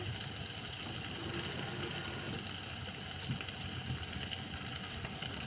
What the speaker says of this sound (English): At this point, I add just a little bit of water.